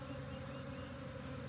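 Honey bees buzzing at an open hive during a swarm colony inspection, a faint, steady, continuous hum without breaks.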